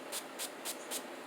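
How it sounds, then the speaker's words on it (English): Makeup setting spray misted from a pump bottle in four quick, evenly spaced hissing bursts, close and crisp against a quiet background. "Let's see if we can fix that with a little setting spray."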